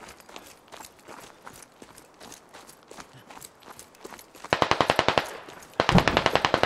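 Automatic gunfire in the tactical shooter Squad, on the Belaya map: scattered distant shots at first, then two loud, close bursts of rapid fire in the final seconds.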